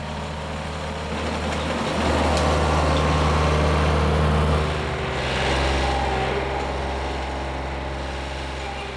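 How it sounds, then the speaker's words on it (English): A compressed earth block machine running steadily, a loud continuous engine drone with a hum that rises and swells twice mid-run before settling back to an even idle. "Then it's transferred to an earth block machine."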